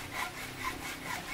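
A hand saw cuts through bamboo on a farm in the Philippines, with about three steady, rasping strokes close by and no talk.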